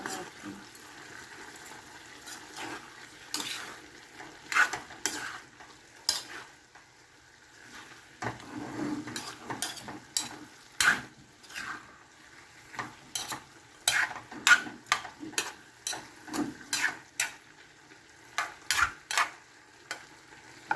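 Bitter gourd (ampalaya) stir-fried in a pan with shrimp and vegetables, giving irregular scraping and clattering strokes of a utensil over a low sizzle, close and fairly loud, with occasional speech.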